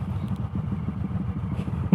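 A group of motorcycles passes by outside on a hot day, a mid-distance rumbling engine burble with rhythmic pulsing exhaust throbs, steady throughout and ending in a brief louder thump.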